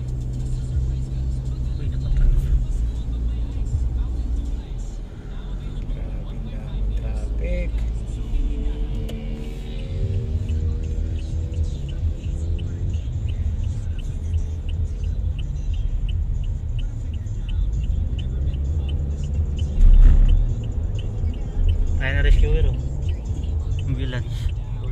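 Road traffic on C5 in Taguig, backed up after an accident, rumbles steadily for a long stretch, with low engine drone from surrounding vehicles and occasional passing surges heard from inside a car while people talk.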